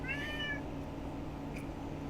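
A cat named George gives a single clear meow, near and moderately loud, followed by quiet room hum with no talking.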